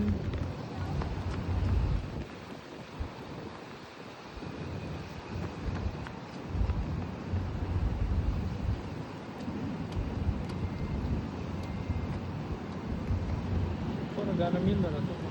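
Wind blows outdoors on a walk from Fortress Hill to Central, a continuous rough rumbling buffet that swells and eases across the whole stretch, with faint voices mixed into the noise.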